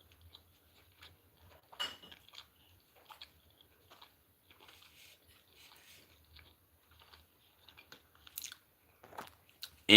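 Someone chews a breakfast of sausage, jelly and a biscuit, with soft, irregular bites and mouth noises spaced across near-silence, plus a few sharper crunchy moments and a loud bump at the very end.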